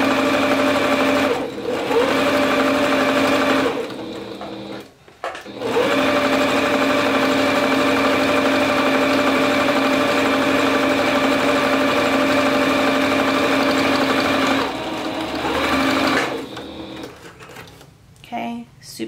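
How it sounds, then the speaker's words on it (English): A sewing machine stitches a fabric tube for a scrunchie with a 1/4 inch seam allowance, running in long steady bursts with brief pauses between, close and loud, with a voice speaking briefly in the gaps. "I'm gonna go ahead and sew this one up too."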